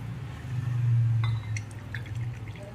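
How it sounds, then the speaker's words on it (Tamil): Hibiscus tea poured into tumblers in a home kitchen, a steady liquid stream building for about a second, then lighter trickles and drips with faint glassy clinks. "Pour the tea into the tumblers."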